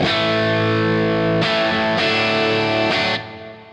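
A sustained electric guitar through a Wizard Crunch compressor pedal with a smooth, compressed tone, strummed chords ringing evenly with three fresh attacks before fading out.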